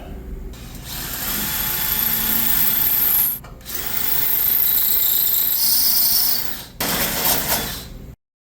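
A power drill whirs loudly in sustained bursts while enlarging an opening for a stainless exhaust on a 1969 VW Bus, briefly stopping twice before cutting off abruptly at the end as the drill bit breaks.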